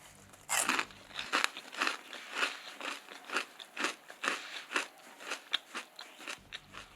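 Crunchy deep-fried meatballs bitten and chewed close up, a sharp crackling bite followed by a steady series of crisp, rhythmic crunches, no voices.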